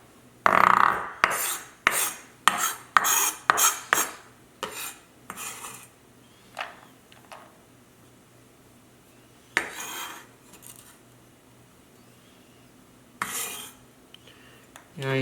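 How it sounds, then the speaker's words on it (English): Fresh ginger minced with a knife on a cutting board: a quick run of sharp chopping taps that thins into scattered single knocks with long quiet gaps between them. "Now your ginger is all nice and minced."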